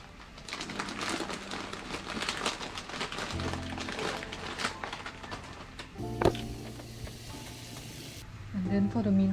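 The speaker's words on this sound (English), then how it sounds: "So the water is boiling" Water boils in a cooking pot with a steady, faint bubbling hiss, interrupted midway by a brief clatter and ending with some louder kitchen handling.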